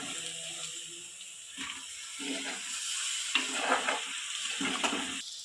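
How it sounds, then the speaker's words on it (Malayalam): A steady hissing sizzle as okra fries in a hot pan with masala, with short bursts of clatter and stirring scrapes on top. "ഇനി നമുക്ക് വെണ്ടയ്ക്ക ഇടാം"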